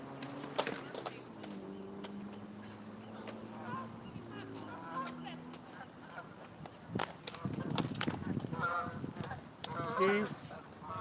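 Several geese honk in a repeated, overlapping series of loud calls that grow busier toward the end, with some voices in the background.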